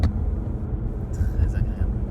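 A Ford Mustang GT engine holds around 4000 rpm on an open road, a deep, steady rumbling drone heard from inside the car, loud and continuous.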